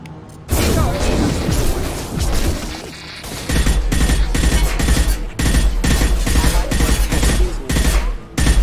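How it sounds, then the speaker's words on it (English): Sustained gunfire from the sci-fi shooter game Mass Effect 2 makes dense, rapid automatic bursts with heavy impacts and booms, loud and nearly continuous apart from a brief lull. "Taking heavy fire."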